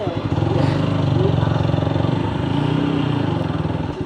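A motorcycle, called a turtle bike, runs at Mouchak station with a steady, close engine drone that holds at an even pitch and loudness.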